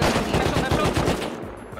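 AK rifle firing in a video game forest, a loud, rapid automatic burst of closely spaced shots that runs nearly unbroken before cutting off.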